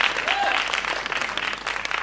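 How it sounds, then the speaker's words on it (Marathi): An audience claps loudly at a film trailer launch event, a dense, sustained burst of applause filling the hall from start to finish. "त्यांच्यासाठीही जोरदार टाळ्या झाल्या पाहिजे"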